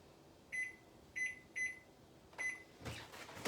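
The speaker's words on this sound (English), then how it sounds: "I put the timer, I put the timer on microwave." Microwave oven timer beeping four times in short evenly spaced tones, close and clear over a quiet room hum, followed by a brief burst of broadband noise.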